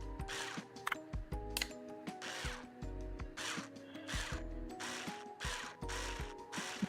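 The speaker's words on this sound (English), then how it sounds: "now I can screw all of these a million screws in" Repeated mechanical ratcheting and clicking as screws are driven into a guitar in the ReStory electronics-repair game, arriving in steady bursts with short gaps between them, fairly loud and alone.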